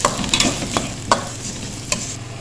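A large onion frying in half a cup of oil, with steady sizzling and several sharp scrapes and clinks of a spoon stirring the pan.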